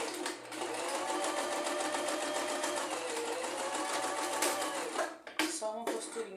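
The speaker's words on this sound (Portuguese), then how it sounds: "pra eu poder passar a costurinha aqui, fixando ela." Sewing machine stitching a securing seam on a child's seat belt cushion, a steady rapid needle chatter running loud and close for about five seconds before stopping, followed by a few brief handling knocks.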